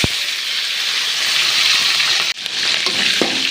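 Pirandai (adamant creeper) and red chillies fry in hot oil with a loud, dense, close sizzle that drops out for a split second and then resumes just as strongly.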